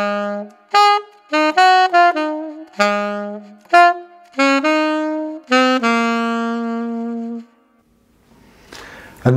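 Alto saxophone plays a melodic phrase from a solo, a run of clear sustained notes and short articulated ones that ends on a long held tone, close and alone with no talking.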